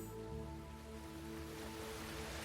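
Ocean waves washing onto a beach make a soft, steady surf hiss that swells slightly toward the end, quiet and low beneath a sustained musical drone.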